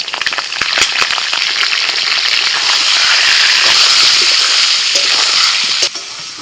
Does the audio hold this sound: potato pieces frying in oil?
yes